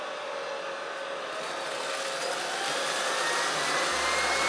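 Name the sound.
Prettycare V3 robot vacuum cleaning in automatic mode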